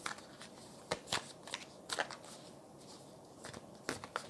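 Quiet, irregular bursts of an oversized tarot deck riffling and slapping together, close by, with brief pauses between the shuffles.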